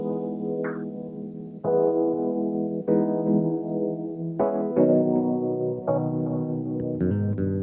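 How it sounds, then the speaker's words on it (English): A song plays from a record: a steady sustained harmonic tone shifts pitch every second or so, moderately loud and clean with no talking over it. "What I want to do next is play a record that we have"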